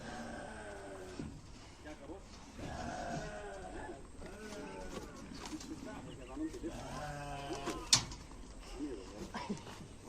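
A goat bleats several times, with drawn-out cries coming and going over a steady background of voices, as goats are slaughtered at home for sharing meat with neighbours and relatives.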